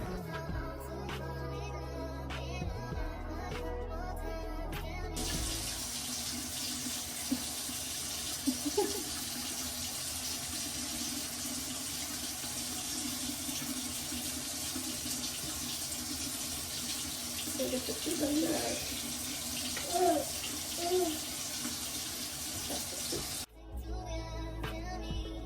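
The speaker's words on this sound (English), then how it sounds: "she's rinsing out her mouth, getting all that toothpaste and everything out." A running bathroom tap pours steadily into the sink for about eighteen seconds while a toddler rinses out toothpaste after brushing her teeth. The water is fairly loud and close, with no talk over it.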